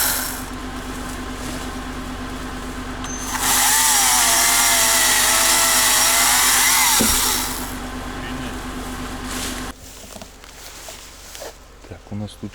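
A new chainsaw cuts dry spruce for a post in the Far East taiga, revving up loud and close for about four seconds before dropping back to a low idle hum, with scattered knocks afterward.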